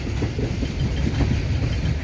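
Freight cars of a Wheeling & Lake Erie train roll past on jointed rail with a close, heavy, continuous rumble and a faint clickety-clack rhythm underneath.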